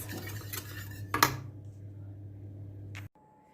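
Utensil scraping and clinking in a pot as a sauce for a wet cake is stirred and whisked over the heat, a steady close sound with a sharper knock near the middle before it stops.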